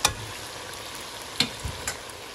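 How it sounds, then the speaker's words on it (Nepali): Garlic sizzles and fries in a pan while making a Nepali village-style local chicken curry, a close, continuous crackle with a few sharp stirring scrapes and spatters. "अब लसुन भुट्यो."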